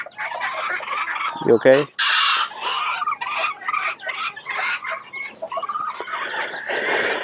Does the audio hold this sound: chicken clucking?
yes